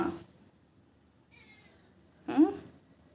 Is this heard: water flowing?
no